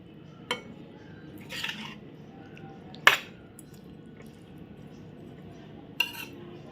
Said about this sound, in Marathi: सगळ्या फोडी अशा छान मिक्स करून घ्यायच्या